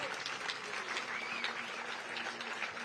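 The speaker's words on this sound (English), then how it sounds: "give these incredible athletes a big round of applause" A press-conference audience at the IRONMAN 70.3 World Championship gives a steady round of applause for the athletes, many hands clapping at a fairly faint level throughout.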